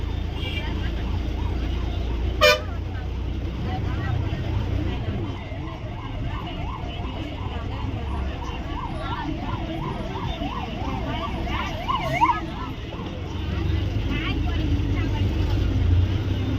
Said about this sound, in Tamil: ஆம்புலன்ஸ் வருதுங்க பின்னாடி